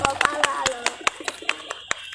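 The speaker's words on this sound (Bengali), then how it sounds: "আরেকটি জোরে হাততালি সবাই" Applause for a prize giving at an iftar party, a crowd of hands clapping in sharp, uneven bursts over about two seconds, loud and close with voices faintly mixed in.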